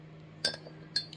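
Two light, bright clinks of a spoon against a dish, spaced about half a second apart, over a low steady hum.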